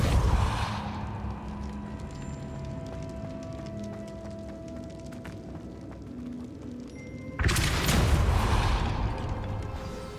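The Depulso spell in Hogwarts Legacy goes off as a loud, booming magical blast at the start, then a quiet stretch of ambience, then a second forceful whoosh-and-boom burst.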